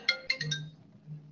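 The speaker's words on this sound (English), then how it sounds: "Just a phone call." A phone gives a few quick electronic ringtone chirps in a short burst, fairly close and clear, followed by a low hum.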